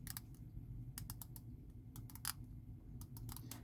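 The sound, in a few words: clicks of a rotating watch bezel on an Eoniq custom watch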